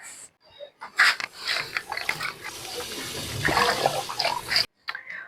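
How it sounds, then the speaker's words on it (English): Water leaf and vegetables rinsed by hand in a bowl of clean water, with irregular splashing, sloshing and swishing bursts close by, broken by brief pauses. "rinse my water leaf and my vegetable in a clean water for about 3 times to remove all the sands"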